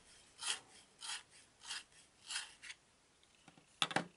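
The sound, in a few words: sharpening a colored pencil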